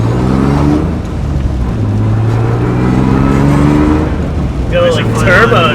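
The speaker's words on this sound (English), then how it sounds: "Got a little like turbo noise there" A BMW E36 engine revs up close with a whirring, turbo-like whine, while people talk over the steady engine drone.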